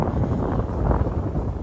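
Wind buffeting a microphone outdoors at the Cross Keys battlefield on a cold day, a continuous low rumbling roar with slight gusty swells and no voices.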